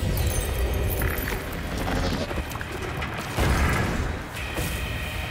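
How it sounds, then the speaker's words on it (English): Explosions in the second official trailer for the Hindi action film Attack, starring John Abraham: loud, dense booms and mechanical impacts layered with thick soundtrack effects, running continuously for several seconds. "That explosion was in bullet time, just like the Matrix number 2."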